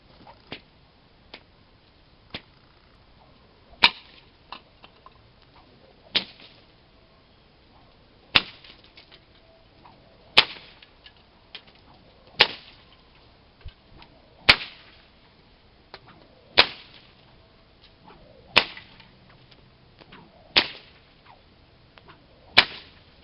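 A homemade bull whip cracking outdoors, about a dozen sharp, loud snaps spaced a couple of seconds apart, each a crisp isolated crack over quiet background.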